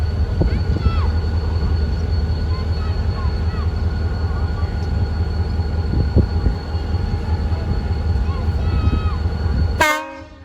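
A diesel train's horn sounds loudly at Malir Railway Station over a rumbling idling locomotive, with short blasts early and a sharp, strong horn burst near the end as the engine noise drops.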